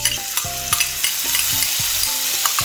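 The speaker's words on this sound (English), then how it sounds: "Just gonna stir the garlic on a low heat" Garlic fries on low heat in a pan while being stirred, a close, steady sizzle broken by a series of quick spatula scrapes and taps against the pan, with no voices.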